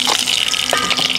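Mustard seeds spluttering in hot coconut oil while tempering a Kerala-style chickpea curry, a dense, continuous crackling hiss held close and fairly loud for a brief moment, with no talking.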